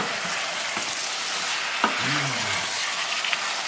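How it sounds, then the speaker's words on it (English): Deer meat sizzles steadily in a hot pan for stew, a continuous crackling hiss with a brief clink or stir partway through. "directly go into the meat while the meat is frying"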